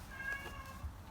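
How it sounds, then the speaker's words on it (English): A pet cat gives one short, faint meow in a quiet indoor room. "there's Chloe meowing"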